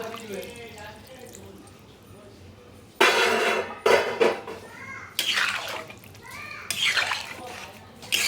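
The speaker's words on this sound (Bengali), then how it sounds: "আমি এর মধ্যে পরিমাণ মতন পানি দিয়ে দিচ্ছি" Water splashes and pours into a pot of braised chicken in several short bursts, with a metallic clatter and a voice speaking quietly underneath.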